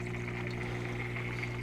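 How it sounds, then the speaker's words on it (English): Air is purged from workshop heater water lines with the circulating pumps running: a soft, continuous bubbling and trickle riding on a steady low pump hum, close by and quiet. "Hear air being purged."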